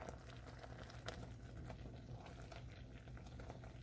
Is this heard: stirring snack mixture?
yes